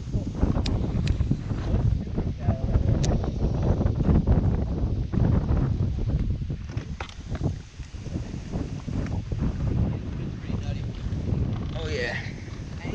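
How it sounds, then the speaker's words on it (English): Strong, gusty wind buffets the microphone on a lake from a jon boat during bass fishing, a loud continuous roaring rumble with water slapping, and people talk over it. "This wind is brutal."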